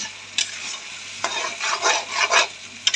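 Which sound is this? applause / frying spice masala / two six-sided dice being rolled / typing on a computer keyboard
frying spice masala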